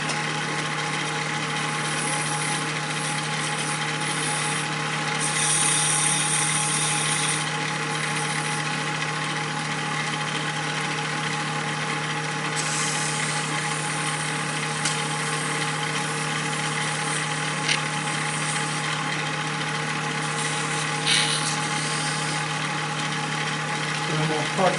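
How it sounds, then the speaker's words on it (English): A wooden Christmas tree being sanded as it spins on a wood lathe, heard as a steady loud motor drone with a faint rubbing hiss on top, running continuously throughout. "I probably need to sand that a little bitty bit"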